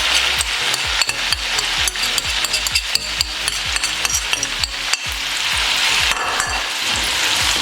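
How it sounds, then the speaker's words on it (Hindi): Chicken korma with powdered spices frying in a pan, a close sizzle broken by rhythmic scraping and knocking of a spoon as the mixture is stirred, steady throughout. "अच्छे तरीके से मिक्स करके इसे 3 से 4 मिनट के लिए पकाएंगे।"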